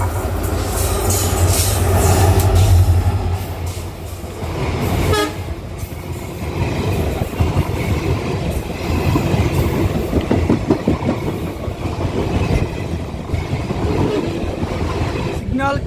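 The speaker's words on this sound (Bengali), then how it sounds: "আরেকটি ট্রেন আসছে, তাই রেড সিগন্যাল ছিল।" A passenger train on the Kamakhya to Siliguri route, passing through forest near Rajabhatkhawa station, meets an oncoming train: a loud, continuous rumble and rhythmic clatter of wheels on rails, with a horn blast sounding partway through.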